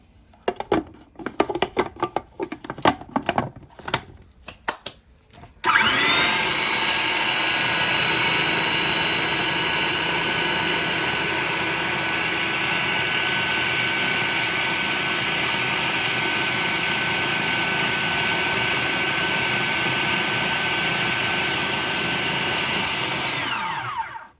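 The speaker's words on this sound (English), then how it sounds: "Great, excellent blending" A blender whirs steadily at close range, blending a Greek parsley salad (maintanosalata), starting with a few short pulses and then running continuously at high speed for roughly eighteen seconds before cutting off.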